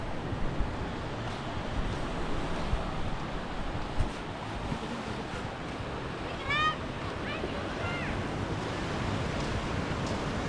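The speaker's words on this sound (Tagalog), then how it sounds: "Ganyan lang yung alon niya no." Calm sea waves wash continuously onto a shore at Bucana in the Philippines, a soft, steady broadband rush with light wind noise and a few faint, brief high chirps partway through.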